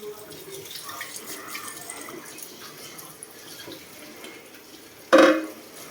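Tap water runs softly into a sink as a small child washes dishes by hand, the flow faint and steady beneath nearby voices, with one brief louder splash near the end.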